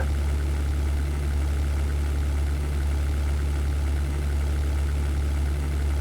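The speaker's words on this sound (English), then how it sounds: "I'm flying on such low power, and the engines are really damaged already" Damaged fighter plane engines in the 1998 flight game European Air War drone at low power, a steady, heavy, rumbling hum that holds constant throughout.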